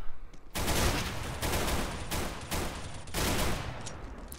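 CZ pistol fire in the video game CS:GO: loud, close volleys of rapid shots in about five back-to-back bursts, with hardly any gap between them.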